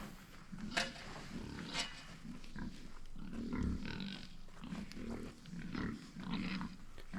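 Farm pigs grunt and snort in a series of low, rough calls, some close and fairly loud, repeating irregularly over steady background noise with no talking.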